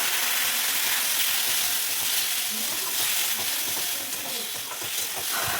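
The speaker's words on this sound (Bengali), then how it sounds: "এই মশলাটাকে একটু সামান্য জল দিয়ে কষিয়ে নেব" Turmeric, salt, chilli and cumin powders loosened with a little water sizzle steadily in a pan, a dense continuous frying hiss with soft stirring scrapes throughout and no voices.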